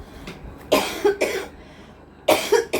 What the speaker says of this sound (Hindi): पता नहीं मुझे क्यों खांसी आने लगी, सॉरी।